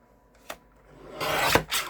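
Scissors cutting quilting fabric along a diagonal line during a crafting session: a short snip, then a longer rasping cut followed by one more close, fairly loud slice.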